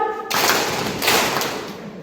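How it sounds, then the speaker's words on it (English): A group at a youth program event gives a single unison clap that rings out broadly and loudly, following a brief spoken cue. "Clap 1."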